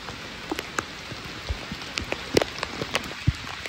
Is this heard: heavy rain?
yes